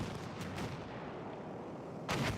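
A tank gun fires in a Battlefield 1 Incursions match: a couple of short muffled thumps, then a louder booming blast near the end over low battle rumble.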